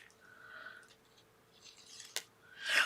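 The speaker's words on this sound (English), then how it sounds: "I kind of just want to do scissors to cut it up here" Scissors cutting through craft material for a paper 3D Christmas tree and deer, heard as a few soft snipping and rustling strokes up close, with a sharper snip near the end, no voices.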